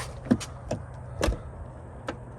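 Door of a 1994 Mercedes-Benz S600 with a soft-close mechanism, a handful of close, brief clunks and latch taps spaced apart, one with a slightly longer mechanical pull, no talking.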